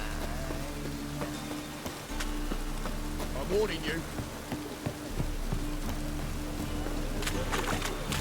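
Steady rain patters on surfaces with scattered drops and splashes, under a brief spoken line and a low background hum, in The Witcher video game.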